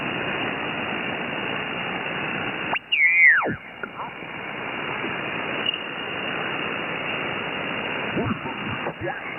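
Static hiss on the 12 meter amateur radio band, a steady wash of broadband noise from a receiver, briefly broken by a sweeping whistle tone and a few faint blips.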